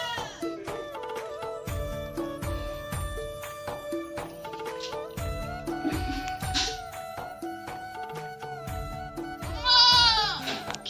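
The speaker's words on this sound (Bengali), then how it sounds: "চালু ছাগলগুলো সেই চিনে মুখ চেনে" Goats bleat in repeated calls, several animals at once, with one louder, higher bleat near the end over steady farmyard background sound.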